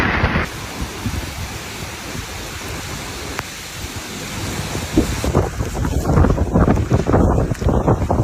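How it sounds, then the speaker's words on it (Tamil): Strong cyclone wind roars across Pamban Bridge over the sea, a loud, constant rush with buffeting on the microphone and surging gusts that grow rougher toward the end. "காத்து வந்து பாம்பன் பாலத்தில் அடிச்சு கடுமையான காத்து அடிச்சுக்கிட்டு"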